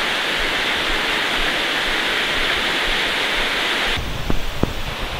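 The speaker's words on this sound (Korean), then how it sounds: "계곡도 아주 그냥 시원하게 우렁차게 흐르고요" A mountain stream in Piagol Valley rushes loudly and steadily as a dense, continuous roar, with a few faint knocks and steps near the end.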